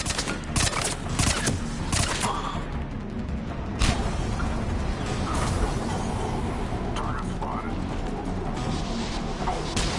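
Rapid bursts of gunfire in Mass Effect 3 crack through a chaotic firefight, loud sharp shots and heavy impacts coming in clusters over ten seconds, with shouting voices mixed in beneath.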